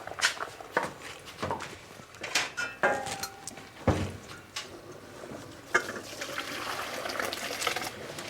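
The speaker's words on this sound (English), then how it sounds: "Get rid of all the water." Freshly cooked pasta is drained in a kitchen, with water pouring and splashing in irregular gushes and clanks of the pot or colander, fairly close and moderately loud.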